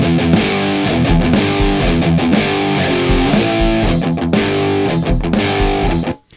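A loud, heavily distorted electric guitar riff repeating as a loop, ending abruptly.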